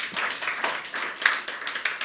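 A sparse church congregation at a worship service claps in praise of God, a thin scattering of hands producing light, somewhat rhythmic claps with regular accents rather than a full ovation.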